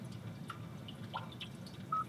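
A rainy-day nature preset plays through the infotainment speakers of a 2021 Kia Seltos SX AWD Turbo, with faint scattered water drips and small plinks over a low, quiet background hum.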